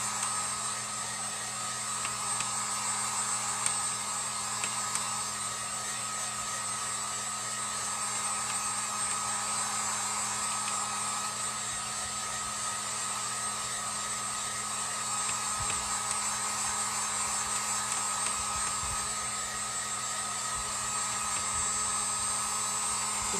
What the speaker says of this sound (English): I'm going to dry this with my heat gun